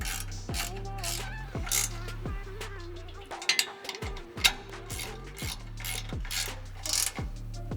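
Nuts are tightened onto bolts on an extreme-duty front bumper being installed on a Tesla Cybertruck, giving close repeated ratcheting clicks in regular bursts with mechanical grinding and a short pause midway.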